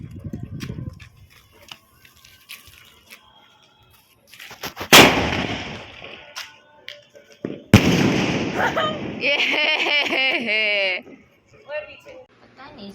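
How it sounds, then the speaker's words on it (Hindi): Diwali firecrackers go off at home, two sharp loud bangs a few seconds apart followed by fizzing, crackling bursts, with people talking in between. "तो ऑफ कोर्स फिर से हमने थोड़े से पटाखा धरा है"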